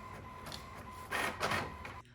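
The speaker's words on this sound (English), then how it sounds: "so now I know that I can print the rest of my pattern" A home printer feeds and prints sewing pattern pages, a soft motorized whir rising into two brief louder mechanical pulses before cutting off.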